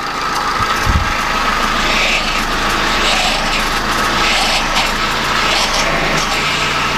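A car's power steering groans as the wheel is turned left and right during a steering oil change, heard close over a steady idling engine hum, with one low thump early on.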